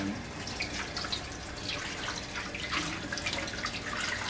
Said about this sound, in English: Now the stainless steel one, you just kind of rinse it all around.